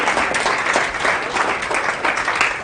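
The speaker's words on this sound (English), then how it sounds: "now you can clap" Sustained audience applause fills a political talk on constitutional rights in Seneca, Kansas, steady clapping from a crowd, fairly loud and continuous, with no speech over it.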